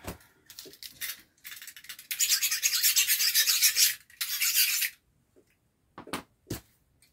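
Wood rasp working a 45-degree bevel into a wooden walking stick, several short rough strokes then a long sustained scraping pass, close and loud, with a few sharp knocks at the end.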